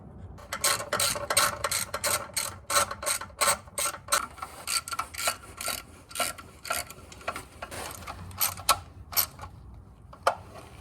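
A ratchet clicks in rapid bursts while oil pan bolts and nuts are tightened on an engine block, with short pauses between each run of ratcheting and no talking.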